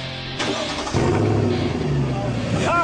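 A car engine turns over and revs up, its mid-pitched roar rising while people talk over it.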